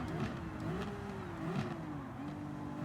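Ferrari Vision Gran Turismo race car engine in a video game, lapping Fuji, revving at high pitch with a steady, shifting whine that rises and falls continuously, loud and close throughout.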